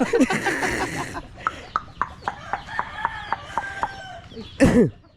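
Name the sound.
hen clucking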